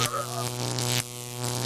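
Electric crackling buzz of a taser zap, loud and close, a steady harsh drone with a strong low hum that breaks briefly midway and resumes, no talk over it.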